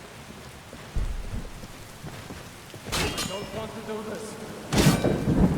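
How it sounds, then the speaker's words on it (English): Thunderstorm with heavy rain in Skyrim: steady rain hiss broken by loud thunder cracks and rumbles, several bursts near the middle and end, with a person talking over it. "Man, this thunder is loud. It's really pissing down now."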